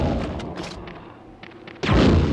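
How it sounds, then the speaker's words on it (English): Grenade explosion in Resident Evil 2 on N64, a sharp booming blast that erupts after a stretch of scattered gunshot-like pops and quieter game sounds, loud and close. "Look at the way he shot himself back after he got hit by the grenade explosion."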